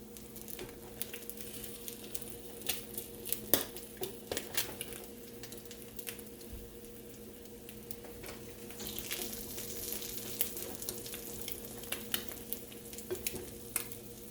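Egg-soaked bread frying in a pan gives a soft, continuous sizzle scattered with small pops and light utensil taps, quiet and close.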